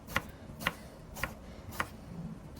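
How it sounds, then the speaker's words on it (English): Four evenly spaced, sharp knife strikes on a cutting board as food is sliced, each a crisp isolated chop against a quiet background. "So yeah, so see I chop it in half, so it's flat. I chop in slices."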